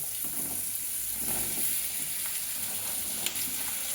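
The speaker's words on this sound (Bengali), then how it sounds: "দিয়ে ভেজিটেবলগুলো আমি সব ভেজে নেব" Mixed vegetables sizzle in melted butter and oil in a pan for white sauce pasta, a loud, steady, close frying hiss with a few light stirring knocks.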